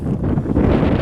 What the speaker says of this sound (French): Là, le vent qui se lève, c'est agréable parce que là, il fait chaud.